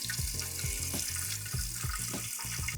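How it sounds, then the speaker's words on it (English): Water running steadily from a bathroom tap into a sink while a face is rinsed, a close, continuous splashing with rhythmic pulses as hands cup and lift the water. "I want to rinse my face with some water."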